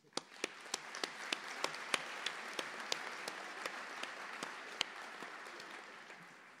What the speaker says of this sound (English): So you all deserve a big round of applause for your accomplishment.